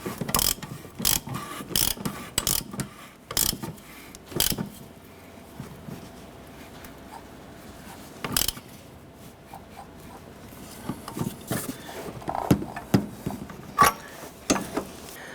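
Ratchet wrench snugging down a front catalytic converter on a 2008–2012 Honda Accord, rapid bursts of metallic clicking with short pauses between them, close and clear, with no talk.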